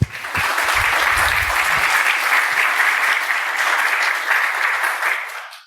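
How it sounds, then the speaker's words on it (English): Audience applause in a conference room after a security talk at HITB2022 Singapore, a full, even burst of many people clapping that holds steady and fades out at the end, with brief voices near the start. "Please give me a round of applause."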